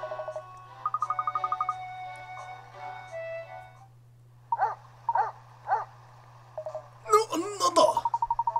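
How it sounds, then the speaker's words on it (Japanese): A dog barks a few times in short bursts, joined by a whimpering yelp, set in the game Layton's Mystery Journey, with electronic beeping tones and a low steady hum underneath. "犬の吠える声でしたね。"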